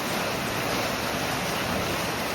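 Wind and rain storm lashing a house at night during a fast-rising flood, a steady, dense roar of rushing wind and pouring rain filling the whole clip with no breaks and no voices.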